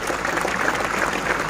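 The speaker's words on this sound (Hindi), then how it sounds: "इस बच्चे के लिए ताली बजाओ।" Audience clapping at a school annual function in a village school, a steady dense wash of applause from a crowd of many hands, continuous and fairly loud with no clear pauses.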